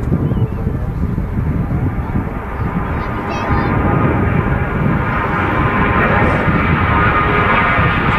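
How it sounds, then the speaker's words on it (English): Turkish Airlines Airbus A321 beginning its takeoff roll at a very windy Manchester Airport, a loud broad engine roar building steadily and continuously, with wind noise mixed in. "Here goes the Turkish Airlines starting its takeoff roll, headed back down to Dalaman."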